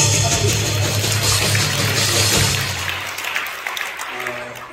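A crowd at an outdoor Korean church rally for an Easter service near Gwanghwamun breaks into dense applause that gradually fades, with a voice speaking over it.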